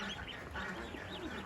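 Young ducklings in the starter growth stage quack and chatter continuously at moderate distance, with several overlapping calls and no talking.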